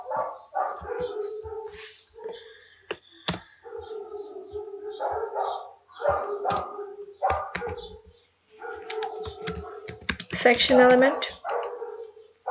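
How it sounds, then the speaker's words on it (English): Neighbor's dogs bark repeatedly at moderate distance, with yips and whimpers mixed in, while a person talks over much of it. "These are my neighbor's dogs."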